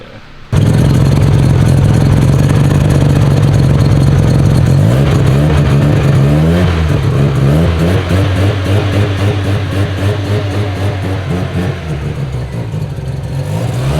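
A car engine from a prized custom build starts up and revs hard, then runs through repeated throttle blips and climbing, wavering revs, loud and close for the whole stretch.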